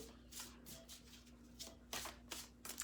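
Tarot cards are shuffled by hand before an affirmation card is drawn, making quiet papery riffles in short bursts that cluster into quicker flicks toward the end.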